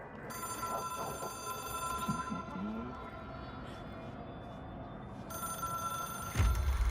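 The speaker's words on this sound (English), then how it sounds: "It is a phone." Telephone ringing in the video game Control, a faint, steady electronic ring against low background rumble, ending with a brief low thump.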